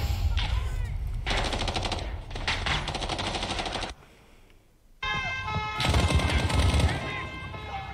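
Sustained bursts of automatic gunfire from the Call of Duty: Modern Warfare 2019 campaign fill the scene, loud and close, with a short lull in the middle before firing resumes alongside in-game sounds.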